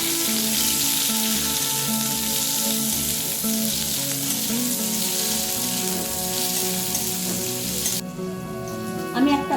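Sliced onions sizzle steadily in hot oil with cardamom, a loud continuous crackle up close, with a few faint stirring scrapes near the end.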